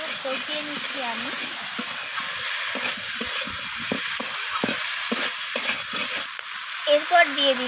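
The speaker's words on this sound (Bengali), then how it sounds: "তো লবণটাকে দিয়ে আবারও কষিয়ে নিচ্ছি আমি" Curry masala with salt stir-fried in a pan for a rohu fish curry with onion stalks, a loud steady sizzling hiss with spatula scrapes, and a voice talking over it at times.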